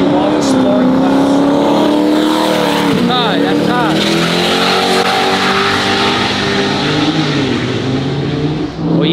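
Loud drag racing action as a Lamborghini launches in the left lane at a two-step battle event, engines roaring steadily with a brief tire chirp and rising pitch, people talking over the noise.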